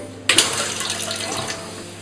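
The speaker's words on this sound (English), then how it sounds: "electric toilet seats with a water spray feature that cleans your bum hole and your genitalia" Water spray from a Japanese electric toilet seat's bidet feature, a sudden hissing jet starting abruptly and running steadily as a close, continuous spray.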